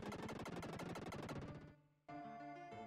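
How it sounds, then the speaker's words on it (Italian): A lightning spell in the SNES game ActRaiser strikes and destroys a rock: a loud, rapid crackling barrage of pulses, a brief drop to near silence, then a sustained ringing tonal burst. "con il fulmine a distruggere questa roccia"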